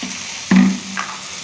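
A splash of water hits ginger paste frying in a pan and sets off a short, loud sizzle burst while it is stirred, then fades to a low simmer with a faint second hiss.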